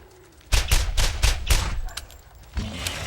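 Rapid gunfire from a weapon in the video game Borderlands, a quick burst of about six loud, evenly spaced shots followed by a few lighter cracks and a final report after a short pause, with no talking.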